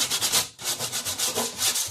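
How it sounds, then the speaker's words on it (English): Hand sanding on a wooden mirror wall sconce for a weathered look: rhythmic back-and-forth scratchy rubbing strokes, close and fairly loud, with one brief pause midway. "I started sanding a little"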